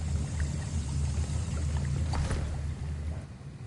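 Liquid being stirred in a potion cauldron in a Harry Potter video game, a soft continuous sloshing and swirling over a low rumbling bed, with a brief brighter splash near the middle, no voices.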